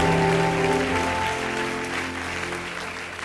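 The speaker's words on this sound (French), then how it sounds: "Acclame Jésus, acclame Jésus" A church congregation applauds in a dense, sustained burst. The clapping is loud at first and slowly fades, with faint tonal music or voices underneath.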